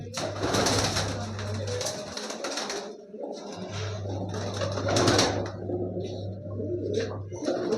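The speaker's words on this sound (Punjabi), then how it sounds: "ਪੂਰੇ ਘੈਂਟ ਕਬੂਤਰ ਦਿਖਾਇਆ ਆਪਾਂ ਤੁਹਾਨੂੰ ਬਈ" Pigeons coo close by in low, repeated throaty calls that carry on almost continuously, with brief pauses, and some other noise mixed in.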